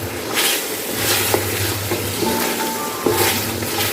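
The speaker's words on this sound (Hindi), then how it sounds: "अब मैं इसे अच्छी तरह भून रही हूँ।" White mutton karahi being stirred and fried in a pan, a continuous close sizzle with periodic scraping strokes of a spoon against the metal, and occasional sharper clinks as the meat is turned.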